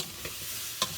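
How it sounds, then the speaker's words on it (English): Caramelized apples, onions and wilting cabbage stirred in a pan, a quiet soft sizzle broken by two brief scraping clatters of the spoon, with no voices. "Stir that up."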